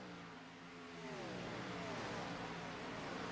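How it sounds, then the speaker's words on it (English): Stock cars racing nose to tail on the backstretch at Michigan International Speedway in iRacing, a loud continuous engine roar with rising, layered harmonic whines as several cars sweep past close by. "these race cars are super loud"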